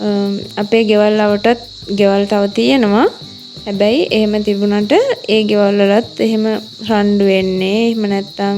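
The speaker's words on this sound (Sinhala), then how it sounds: "බලන්නකො මුළු දවසෙම අපේ ගෙදර ඇහෙන්නේ මෙන්න මේ රැහැයියන්ගේ සද්දේ." Crickets chirp steadily around a house, a high continuous insect drone running under someone talking close by throughout.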